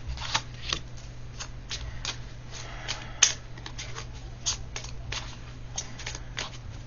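Stiff tarot cards being shuffled close up, a quiet series of quick riffling bursts and flicks over a low steady hum, with one sharper snap partway through.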